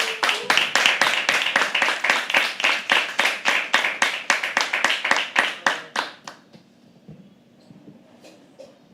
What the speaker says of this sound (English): Keep clapping till he comes on stage.